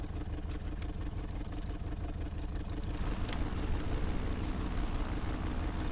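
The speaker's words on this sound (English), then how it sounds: "new engine sounds that are supposed to be a little bit louder" Steady droning engine of a Piper J-3 Cub in a VATSIM flight simulator, continuous and fairly loud with a constant low hum throughout, no talking.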